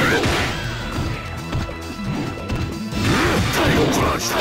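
Heavy crashing hits from a Tail Crush attack in the fighting game Capcom vs SNK 2, dense and loud with layered impact noise and game sounds running throughout.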